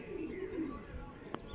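A pigeon gives a soft, short coo at close range, a brief low warble with a faint chirp near the end.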